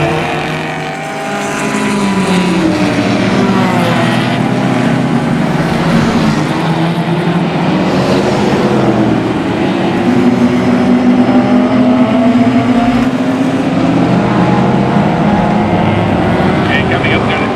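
Race car engines roaring steadily during a Closed Wheel race at Mission Raceway, one car running rough, with a continuous loud drone of several engines and a commentator talking over it throughout.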